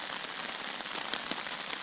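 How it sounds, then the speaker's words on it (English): Steady rain falls on the Appalachian Trail at night, a dense, continuous hiss of drops striking surfaces close by, with scattered louder individual drop impacts and no voices. "it started raining. And it's not supposed to let up anytime soon."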